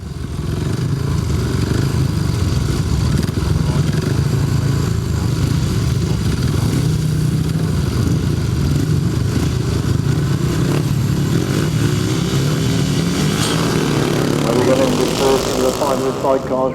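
Grasstrack sidecar motorcycles at a 2008 British best pairs meeting, their engines droning loudly and continuously with a rough, rising note throughout, while a commentator speaks over the racing.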